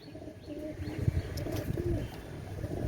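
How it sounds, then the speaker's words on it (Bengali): A Pakistani red-necked Teddy pigeon cooing softly in low, rounded murmurs against a faint background hum, with no voices. "ওস্তাদের কবুতর গলায় লাল কবুতর"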